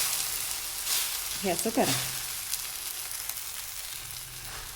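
Uttapam topped with onion and tomato sizzles steadily on a hot pan over a low gas flame, a continuous frying hiss with a brief spoken remark near the start.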